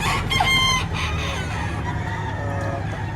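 A rooster at a chicken market in Padre Garcia, Batangas gives a short cluck and strained crow, close and clear over a steady low hum of background crowd noise.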